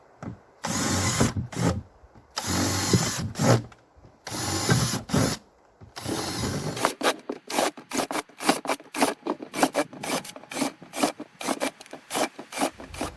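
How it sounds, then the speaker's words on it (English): A drill bores through plastic in repeated bursts, long grinding runs first, then a quick series of short rasping pulses with brief pauses between. "we're going to drill a hole in each one of these"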